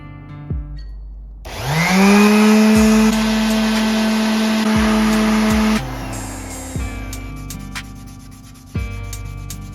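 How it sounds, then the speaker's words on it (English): An electric sander with 600-grit paper works on an interior part of an FC RX7. The motor spins up into a loud, steady whine with rubbing, runs for a few seconds, then winds down to clicks and handling noises. "So I got my sander here. I'm gonna switch it out to 600 and then sand this out."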